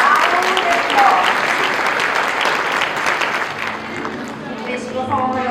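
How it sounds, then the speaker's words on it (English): Loud, sustained applause from a large crowd at a school kindergarten musical performance, dense clapping filling the whole stretch without pause, with faint voices mixed in beneath. "Give them a loud applause."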